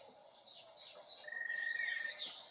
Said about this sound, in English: So you can hear some bird song.